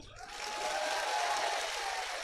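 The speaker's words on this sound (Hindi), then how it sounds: "आप लोग जोरदार तालियां बजाओ" Crowd applause at a Tribal Day comedy show, a broad swell of many hands clapping that rises quickly and holds steady, heard from a little distance with no talking over it.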